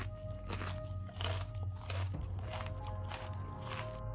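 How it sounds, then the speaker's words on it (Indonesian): Crispy gemplang fish crackers crunched and chewed close up, a steady run of loud, sharp bites and crackles with no talking. "Tapi gemplangnya enak banget, renyah, ikannya terasa."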